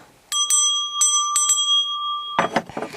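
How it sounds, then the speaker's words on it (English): A small toy bell rings loudly with several quick, bright strikes that leave a long, clear sustained tone, then some clattering handling noise at the end. "And a bell."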